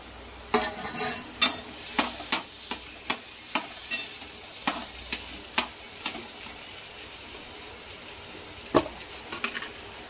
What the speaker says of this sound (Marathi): तर आता मी हे सर्व मिक्स करून घेत आहे यामध्ये